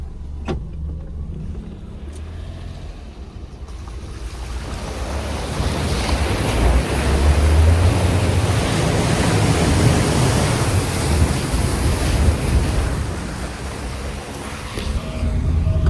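A car pushes through a deeply flooded underpass, its LPG-fuelled engine buried under a steady, loud rush and churn of water that swells and surges for several seconds, with no talking.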